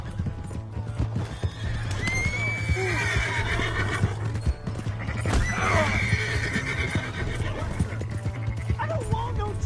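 Horse in a video game whinnying loudly twice with rising and falling cries, over a steady low hum and game noise, with scattered clip-clop and a dog-like yip in the mix.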